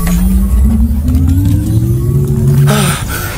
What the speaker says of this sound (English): Of course, we're gonna rev our engines.